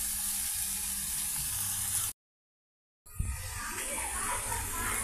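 Amaranth leaves (thotakura) frying in a pan, a strong continuous sizzle that cuts out for a moment of silence, then resumes with a burst of hissing and spattering as the leaves go in.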